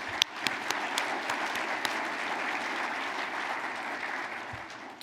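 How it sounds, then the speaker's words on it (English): Audience at a regional chamber annual meeting applauding for Dan Rivers, dense sustained clapping from a sizable crowd lasting several seconds with a few sharper individual claps at the start. "Can we get another round of applause for Dan Rivers?"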